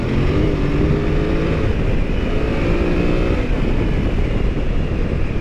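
A 2024 BMW F900GS Enduro motorcycle being ridden, its engine a loud, steady, close drone mixed with wind rush, holding an even pace throughout with no talking.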